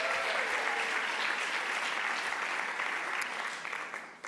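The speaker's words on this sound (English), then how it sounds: "please give the San Jose Arts Commission a warm round of applause" A crowd at the San José arts awards ceremony gives a warm round of collective applause, a thick wash of clapping that holds steady and then tapers off.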